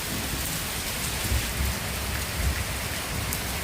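Steady evening rain falls continuously in a dense, even hiss, with occasional low rumbles that may be distant thunder, and no voices.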